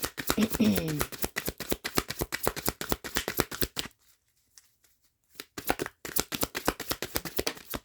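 Oracle cards being shuffled by hand, a rapid run of crisp riffling clicks, a short pause, then more quick flicking shuffles close up.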